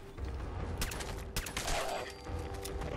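A gamma gun firing in Fallout 4, a cluster of close, sharp energy-weapon blasts in quick succession, with a faint background hum and no talking.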